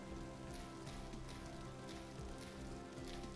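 Rain falls in the video game Vintage Story, a continuous soft patter on surfaces with faint, regularly recurring brighter splashes, quiet and unbroken throughout.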